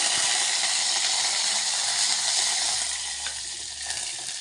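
Mustard seeds and curry leaves hit two spoons of hot oil for a hotel-style rasam tempering, giving a loud, steady, hissing sizzle that eases slightly toward the end.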